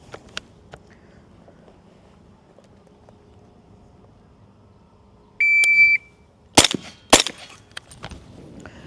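A shot timer gives a short electronic beep. Two sharp rifle shots follow about a second apart, fired with a Geissele clone trigger, loud and close with ringing echoes, and there is no talk.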